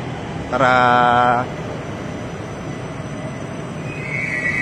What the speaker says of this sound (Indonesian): Ini dia LRT Jabodebek tujuan Duku Atas yang masuk ke jalur 2 stasiun Pancoran.